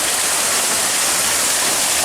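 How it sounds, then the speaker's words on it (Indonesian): Water rushes loudly and steadily at the Jolotundo waterfall, a dense close roar of continuous white-noise flow with no breaks and no voices. "Dari sini sudah mulai terdengar riak-riak suara dari air terjun yang dimaksud oleh warga tadi."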